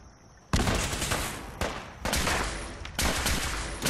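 Machine gun in Fallout 4 firing four loud, close sustained bursts separated by brief pauses, with no talking.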